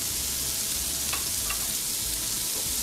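Chopped onion and garlic sautéing in melted butter, producing a soft, even sizzle with a few faint clinks of a utensil against the pan.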